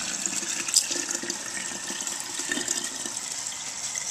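Water runs steadily into a jar of sprouts to fill and rinse them, a continuous close hissing gush with small splashes and no speech.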